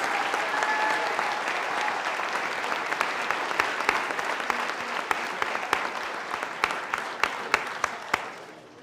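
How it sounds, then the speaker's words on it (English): Sustained round of applause from an audience honoring people for their service, dense and steady for several seconds, thinning into a few sharper individual claps near the end before fading out. "Let's give a round of applause and thank everyone for their service."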